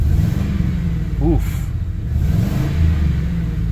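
A 2005 Ford Crown Victoria LX with an exhaust leak revs loudly up close, a rough low drone that swells and settles, with a brief spoken exclamation over it.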